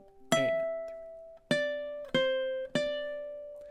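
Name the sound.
ukulele playing measure 14 of a song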